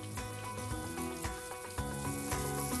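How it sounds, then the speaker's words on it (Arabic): Melted butter poured over meat chops in a hot pan, setting off a loud, continuous close-up sizzle with crackling bursts throughout. "أنا عندي هون شوية زبدة سيحتها، راح أحطها على شرحات اللحمة"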